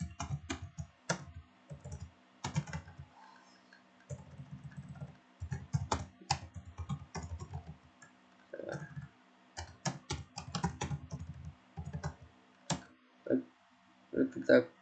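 Keys clack on a computer keyboard while Linux commands are entered, in quick bursts of close, crisp taps separated by short pauses, with a voice talking throughout.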